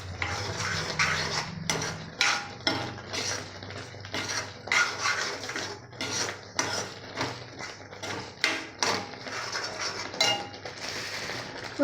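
A ginger pickle mixture with salt is stirred in a metal vessel, giving repeated clinking and scraping strokes of a spoon against the pot in an uneven rhythm, close and without talk.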